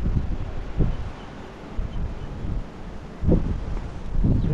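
Steady wind in New Zealand blowing across the microphone with low rumbling gusts, swelling louder near the end; no voices.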